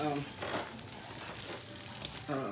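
Food frying and being stirred in a pan on a home stove, with a steady sizzle and scraping stir strokes, a voice briefly murmuring near the start and end.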